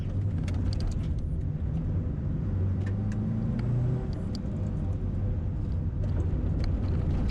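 A rallycross car at a 2022 rallycross event slides across gravel, its engine roaring loud and steady in the foreground with rumbling road noise and brief crunchy gravel spatter throughout.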